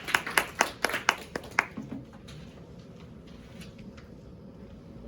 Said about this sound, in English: So can we have a big applause for her?